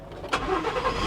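A 2021 Ford F-150 pickup truck with about 56,000 miles starts up after sitting at a salvage auction lot: a short cranking burst, then the engine catching and settling into a steady, close, low idle.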